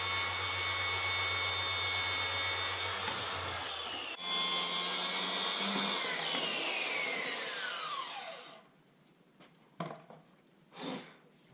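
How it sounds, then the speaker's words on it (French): A power sander works over wooden parts of a homemade car camping box, a loud continuous whirring rasp with a brief pause and a pitch drop as the tool spins down, followed by a few short rubbing bursts. "Et après, je finis par poncer."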